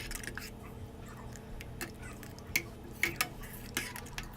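A spoon stirs milk kozhukattai with cardamom powder in a pan, soft scraping and a few sharp clinks of metal against the pan, quiet and close, with no talk.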